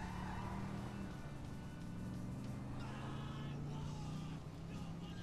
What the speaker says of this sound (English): This car sounds like shit.